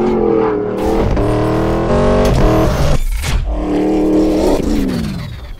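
Nissan VK50 VE V8 in a rally truck with a 6-speed sequential gearbox, roaring loud and close with harmonic engine tones rising and falling through gear changes, brief dips between pulls.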